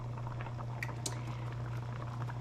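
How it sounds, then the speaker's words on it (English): Beef broth with homemade noodles at a steady boil in a pot, a continuous close bubbling simmer with occasional small pops, alone throughout. "I don't know if you can even hear the boiling, but you want to keep that nice, the broth good and boiling."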